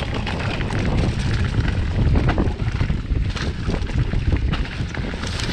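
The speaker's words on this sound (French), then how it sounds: "Un petit peu de vent." Gusty wind buffets a microphone on a mountain trail descent on Monte Arsenti, a loud, uneven roar that surges and eases.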